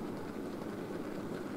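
A model railway fitted goods train runs on the layout, its wheels giving a steady, continuous rumble and rolling clatter at moderate level with no speech.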